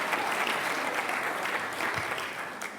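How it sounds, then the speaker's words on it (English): A lecture audience gives itself a short round of applause, a dense, even patter of many hands clapping at once that holds steady throughout. "Give yourselves a little applause."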